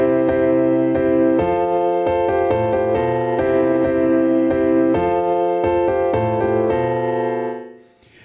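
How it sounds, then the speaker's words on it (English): A new section of a song in 3/8 time played on piano: steady rhythmic chords with repeated note attacks over sustained bass, loud and close, fading out at the end, with no talking. "That new section sounds like this on piano."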